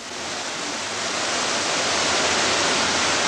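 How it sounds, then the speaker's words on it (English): A steady, broad rush of falling water from two waterfalls over a volcano on Maui, a continuous roar that swells slightly louder and then holds even, with no voices. "This is a volcano underneath not just one, but 2 waterfalls."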